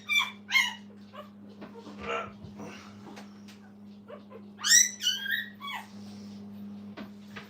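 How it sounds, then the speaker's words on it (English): A five-day-old liver-coloured puppy fussing with high, thin squeals in short bursts, near and fairly loud, over a constant low electrical hum in a kennel. "you hear fussing here from the little liver one"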